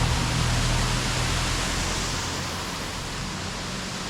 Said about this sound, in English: It's some random normal waterfall here on the island.